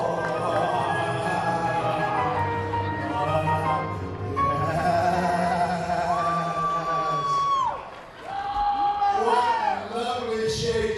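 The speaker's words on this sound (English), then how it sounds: "and you can hear the crowd." A crowd at a professional wrestling event shouts and cheers loudly throughout, with voices rising and falling in waves and a brief dip before the noise swells again.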